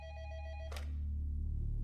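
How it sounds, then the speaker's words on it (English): A telephone rings on a detective's desk at a police department, a steady electronic trill cut off abruptly after about three quarters of a second, followed by a low hum. "Greg Myers of the Monroe Police Department took a call at his desk."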